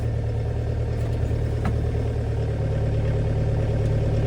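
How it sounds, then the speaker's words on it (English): A tractor engine idles steadily while warming up with cold oil on a farm, a continuous low, even rumble with a faint mechanical clatter and no talk. "Not ideal to move a tractor when its oil's all cold, but I have let it warm up a little bit."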